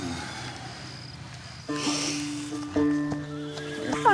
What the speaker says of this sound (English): That's why I'm on the horse.